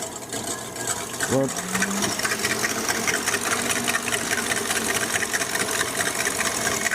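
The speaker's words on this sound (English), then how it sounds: "We're gonna get this whipping with our whisk attachment in our KitchenAid." A KitchenAid stand mixer with the whisk attachment whips ingredients for a Southern banana pudding made from scratch, producing a steady, rhythmic motor whir throughout. A brief voice sounds faintly underneath.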